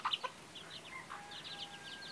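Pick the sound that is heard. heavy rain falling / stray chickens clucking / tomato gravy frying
stray chickens clucking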